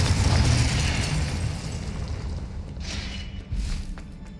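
A Confringo fire spell explodes in the Hogwarts Legacy video game, a loud, broad blast that rumbles and decays over several seconds, with a couple of fainter bursts following near the end.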